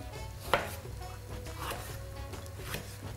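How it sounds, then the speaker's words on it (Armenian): A knife chops food on a board in a home kitchen, giving one sharp, close knock over a steady low room hum with faint clatter. "կտրատում"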